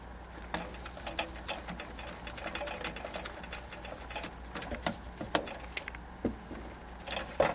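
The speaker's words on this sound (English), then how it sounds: "I'm just going to put 2 screws back in." Screws being driven back into the chassis of a Sony Trinitron KV-5200 mini color TV, heard as close, quiet, irregular clicks and ratcheting taps over a steady low hum.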